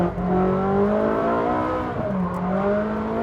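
A Ferrari 458 Speciale or Porsche 991 GT3 sports car accelerates hard through a fourth-gear corner at about 96 mph, its engine note loud and sustained with rising, sweeping harmonics and no talk over it.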